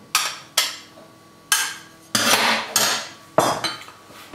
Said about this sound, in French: On les coupe grossièrement.